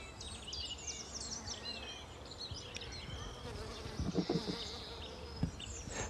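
Bees buzz in a blooming mirabelle plum tree, a close, full, wavering hum with individual insects drifting past and occasional bird chirps further off.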